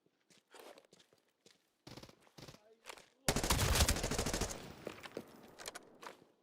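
Rapid bursts of gunfire in a shooter game, a loud dense volley following scattered clicks, footsteps and shuffling, with quieter shots trailing off afterward.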